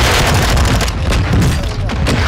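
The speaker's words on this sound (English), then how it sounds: "I got hit with a rocket" Rocket blast hitting a player in a first-person shooter video game: a loud, sustained roaring explosion with rumbling debris and crackle filling the whole stretch, close and dense.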